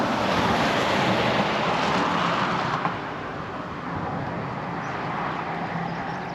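Surf rolls onto a beach lined with coconut trees at Port Douglas, a steady broad wash of waves with wind buffeting the microphone, easing slightly partway through.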